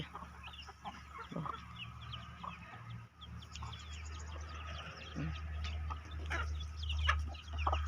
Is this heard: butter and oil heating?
no